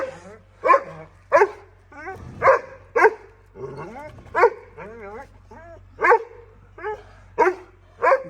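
A bully-breed dog barks repeatedly at a first meeting with its puppy, sharp loud barks coming in a steady rhythm about every half second to second, with some whimpering yips between them and a low steady hum underneath.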